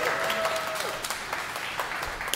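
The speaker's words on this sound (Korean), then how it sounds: "자, 뜨거운 박수로 환영 부탁드립니다." Studio audience applause welcomes a Seoul SK Knights basketball player on a variety show, a short even wash of clapping with a host's voice briefly over the start.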